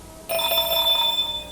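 An alarm-style telephone ringing as part of an analog horror sequence, a sudden bright electronic bell trill that starts abruptly and rings steadily for just over a second, close and clear without talk.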